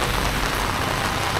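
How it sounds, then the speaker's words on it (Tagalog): Heavy rain pouring down during a typhoon in Cebu, a dense, loud, continuous hiss of drops striking surfaces, with no voices. "Malakas na yung ulan."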